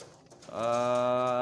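A competition bird, heard as a pigeon or dove, gives a single near, sustained, clear coo that begins abruptly after a brief quiet moment and holds steady to the end.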